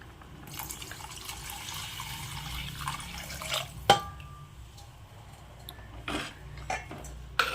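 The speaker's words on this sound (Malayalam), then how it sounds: "ഇനി നമുക്ക് മീൻ വേകാൻ ആവശ്യത്തിനുള്ള വെള്ളം കൂടെ ഇതിലേക്ക് ഒഴിച്ചു കൊടുക്കാം" Water is poured into a pot of fish curry soured with kudampuli, a soft splashing trickle with a few sharp clinks of metal utensils and scattered drips, heard close and without talk.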